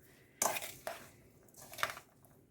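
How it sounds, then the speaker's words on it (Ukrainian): Pie filling with fried onions being mixed in a bowl, giving a few soft, wet scraping and clinking strokes of a utensil against the dish, close and quiet. "І все гарненько вимішаю."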